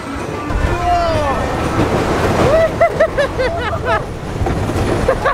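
Big Thunder Mountain roller coaster at Magic Kingdom clatters along its track with rattling cars and loud rumble, while riders shout and whoop throughout.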